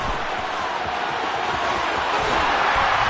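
A stadium crowd in a football video game roars steadily after a Lions touchdown, a dense, sustained wash of cheering that swells slightly toward the end.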